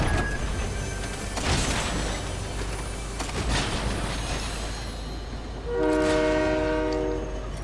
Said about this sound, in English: I'm going for the train.